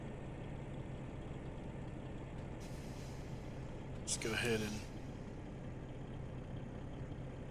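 A truck idles quietly in Farming Simulator 17, then a short, sharp air-brake hiss bursts out and fades, while someone talks over the low engine drone.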